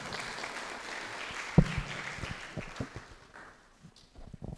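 A conference audience at the Technical University of Mombasa claps after a presentation, a crowd of hands applauding steadily from a distance with a few louder claps, then thinning out toward the end.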